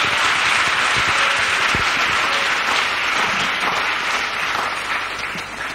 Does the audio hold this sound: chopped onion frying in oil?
no